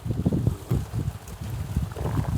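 Wind gusts at a lakeside spot, buffeting the microphone in uneven low rumbles that rise and fall through the clip, with no talking.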